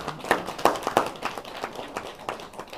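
A lecture audience claps briefly, with scattered sharp hand claps that are loudest early on and then thin out into lighter, irregular clapping, fairly close.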